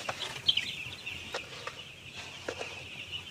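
Upper-floor broiler chickens in a coop keep up a steady chorus of clucking, with a few sharper individual calls rising out of the flock.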